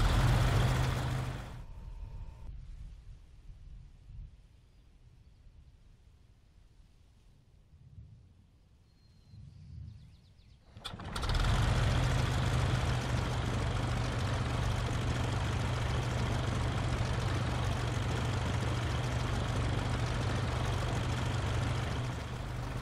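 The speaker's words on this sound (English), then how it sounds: "So now the engine is started," S.E.5a biplane engine in a flight simulator game, with a rich mixture, coughing to life after a quiet stretch, then running as a loud, steady rumbling drone.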